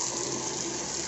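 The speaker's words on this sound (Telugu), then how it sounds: "నేనైతే హాట్ వాటర్ నింపుకోవడానికి పోతున్నా." Hot water gushes steadily from a tap into a container in a room, a close, continuous rushing splash with no voices.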